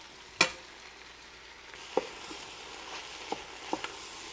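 About a pound of meat frying in a Ninja Foodi pot, with a soft continuous sizzle and a few sharp spatula clacks scattered throughout.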